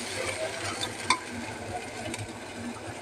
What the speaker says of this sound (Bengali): এবার একটু ভালো করে আরও ভেজে নেব